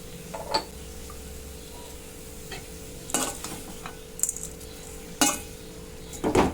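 Cabbage, carrot and moong dal being stirred in a pot with a spoon, giving a few scattered scraping and clinking strokes over a quiet background, with no talking.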